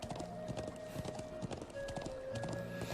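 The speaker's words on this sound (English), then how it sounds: "just riding the horses through this magnificent, beautiful highland country" Horse hooves clip-clop in a steady, quick rhythm while riding through highland country in the video game Trails of Cold Steel, with a soft musical drone underneath.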